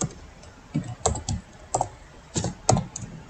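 A computer keyboard is tapped while a SQL insert query is entered, with irregular bursts of crisp, close key clicks separated by brief pauses, no voice present.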